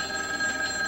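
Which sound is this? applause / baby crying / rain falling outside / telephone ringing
telephone ringing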